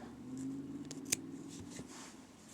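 Scissors snipping crochet yarn on a granny square, a single quiet, sharp cut in an otherwise faint, hushed setting.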